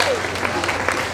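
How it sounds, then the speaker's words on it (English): An audience at a career fair symposium claps steadily, a dense close wash of applause from many hands that fills the moment without pause. "Please, can you clap your hands?"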